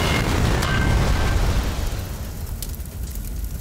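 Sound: crash into a tree and explosion in a video game

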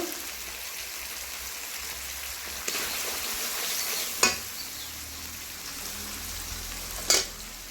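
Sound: spices (coriander, salt, turmeric, cumin) being stirred and fried

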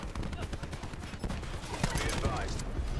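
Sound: SMG gunfire in Call of Duty Black Ops 4 video game

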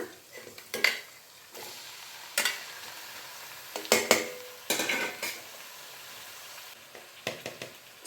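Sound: adding chopped tomatoes to softened onions in pan

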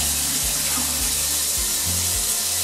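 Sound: water running into a bucket

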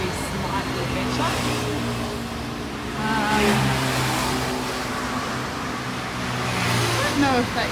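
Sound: car traffic passing on Bypass Road in Sanur

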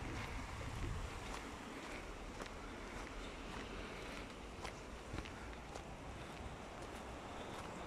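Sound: wind blowing outdoors at ruins

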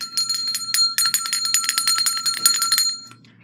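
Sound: bell ringing to end the session

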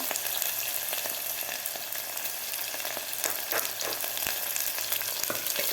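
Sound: sliced onion frying in a pan with cumin

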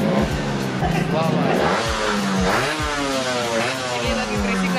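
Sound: motorcycle engine revving during test

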